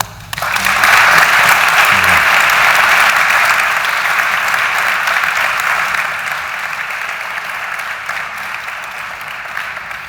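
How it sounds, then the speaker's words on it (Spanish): Sustained applause from an audience, loud and steady throughout, tapering slightly toward the end. "Creo que merecéis un aplauso."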